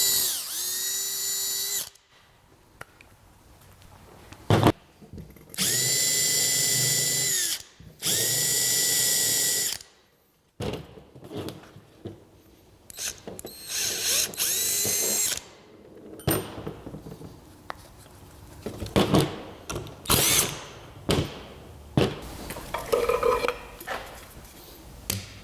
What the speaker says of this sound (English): So the temptation to maybe drill all these holes at once may be high, but just do one at a time for this moment.